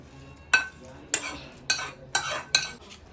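Tomato frying in a little oil while being stirred, with five distinct sharp spatula scrapes and clinks against the pan at regular intervals over a quiet low sizzle.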